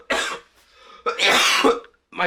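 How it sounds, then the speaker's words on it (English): A person coughs in harsh, throaty bursts, several close, loud hacks separated by brief pauses. "My cough's getting worse."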